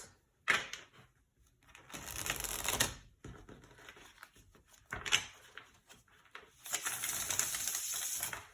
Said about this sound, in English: I feel like shuffling once.